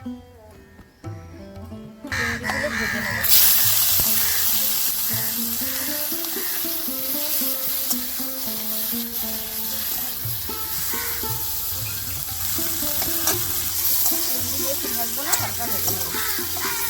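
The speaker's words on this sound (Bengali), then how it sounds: "চিংড়ি বেশি ভাজা হবে না হালকা হালকা করে ভাজা হবে" Prawns fry in hot oil in a wok over a lit clay stove. After a quieter opening, a loud, steady hiss rises and crackles continuously, with faint clinks from the pan.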